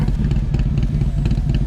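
A Harley-Davidson motorcycle engine rumbles steadily up close outdoors in Florida, with a deep, even throb and a faint mechanical clatter and no voices.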